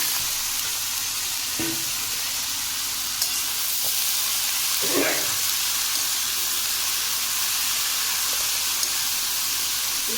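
Grated carrots fry in ghee for carrot halwa, making a steady close hiss and sizzle with a couple of faint spoon scrapes and stirring sounds partway through, and no voices.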